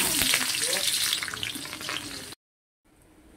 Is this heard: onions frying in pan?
yes